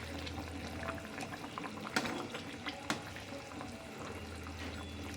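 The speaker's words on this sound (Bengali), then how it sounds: "একটু ফুটিয়ে আমি এটা নামিয়ে নেব।" Fish roe balls and bread simmering in a curry gravy: a soft, continuous bubbling boil close by, with a couple of small splashy pops, no voices.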